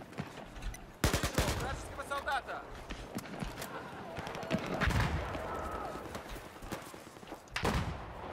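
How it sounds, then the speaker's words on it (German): Gunshots in a Battlefield 4 multiplayer team deathmatch on the Golmud map, from a sniper rifle and a Magnum, with several sharp loud cracks spaced apart among quieter game noise, and people talking throughout. "Erst einmal mit der Sniper so in die Brust geschossen, dann Magnum gezogen und damit getötet."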